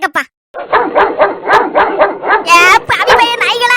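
Dogs bark in a quick run of sharp, evenly spaced yaps, loud and close, with a voice speaking over the end.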